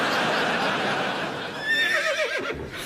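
A voice imitates a horse neighing with a wavering, descending whinny near the end, over the murmur and laughter of a live comedy panel show audience.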